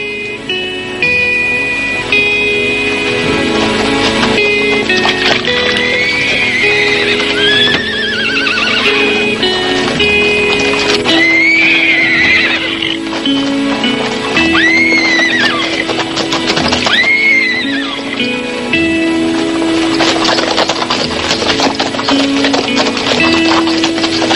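Horses in a Western gunfight setting whinny loudly several times, their high neighs rising and falling over a steady clip-clop of hooves and a continuous musical backdrop.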